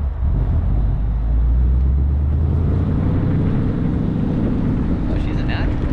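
A 2024 Mustang GT (S650) with a manual gearbox pulls away slowly as the clutch is let out, its deep engine drone steady and close throughout, with people talking over it.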